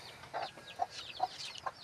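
A very large caged bornok rooster clucks faintly in a few short, separate bursts on a farm, with no speech.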